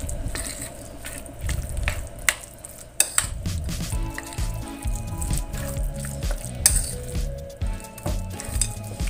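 Sticky minced chicken mixture for bakso meatballs is squelched and stirred by hand in a bowl, with soft wet squishes and occasional clinks of the bowl, close and continuous.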